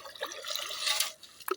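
Live prawns being sorted splash and flick water, making wet slaps and drips up close, with a sharp splash near the end.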